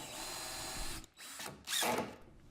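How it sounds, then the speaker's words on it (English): A power drill drives screws into the fence of a small crosscut table-saw sled, with two steady whirring bursts broken by a short pause, close and fairly loud. "finish screwing the close fence in fully"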